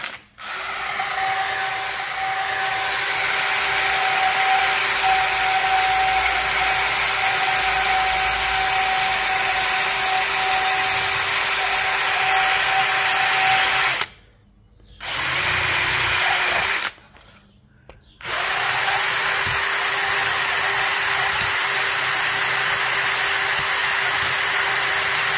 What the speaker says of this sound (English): the material cutting is really slow in a drill